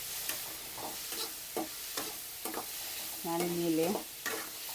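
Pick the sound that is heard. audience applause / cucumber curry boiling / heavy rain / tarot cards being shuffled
cucumber curry boiling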